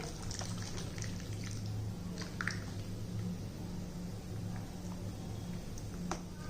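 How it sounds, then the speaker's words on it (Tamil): Whisked buttermilk pours into a pot of horse gram porridge, a soft steady liquid trickle and gentle squishing close by, faint and continuous over a low background hum. "இப்போ நம்ம இந்த அடித்து வச்சுருந்த மோரை இதில் ஊற்றிக்கிடுவோம்."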